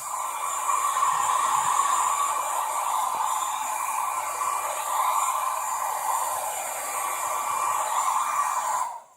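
Steady, loud blowing roar of a hair dryer drying paper coloured with food colouring, a broad airy hiss that holds constant before cutting off abruptly at the end.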